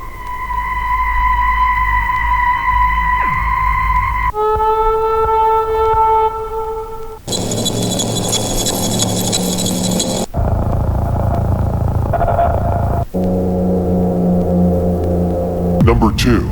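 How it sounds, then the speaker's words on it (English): Free Halloween horror drone samples play one after another: sustained tonal drones and eerie hums in several distinct sections, including a bright noisy wash and a low throbbing texture, loud, continuous and close. "LoopCult's free Halloween drones."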